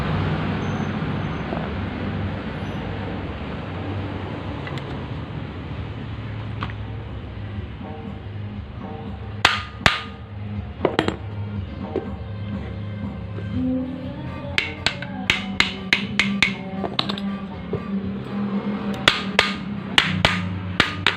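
Sharp metallic hammer taps on a Mitsubishi L300 alternator during repair, sometimes single, sometimes in quick clusters, over a steady engine and traffic rumble in the background.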